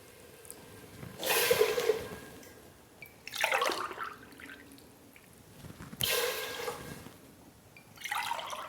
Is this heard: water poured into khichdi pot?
yes